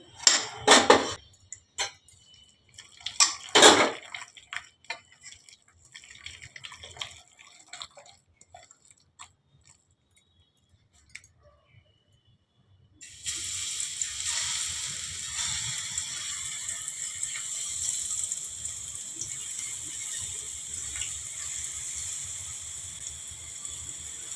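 Spinach pakoras dropped into hot oil begin frying with a steady, soft sizzling hiss after a few clinks and clatters of a utensil and a quiet pause.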